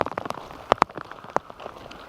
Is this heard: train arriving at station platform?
no